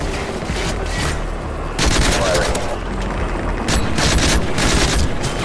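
Gunfire from an aircraft in Modern Warfare 3 Spec Ops on the Toxic Paradise mission: bursts of rapid shots and booms in steady volleys, moderately loud.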